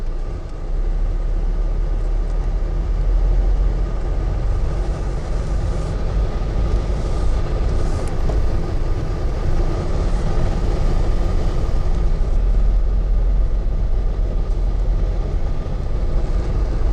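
A 2019 Mercedes-Benz Metris passenger van on a test drive, heard from inside as a loud steady low road and engine rumble with constant broadband tire noise, no voices.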